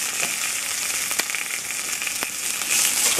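Mini bell peppers searing in olive oil over medium heat make a constant bright sizzle, broken by a couple of sharp crackling pops.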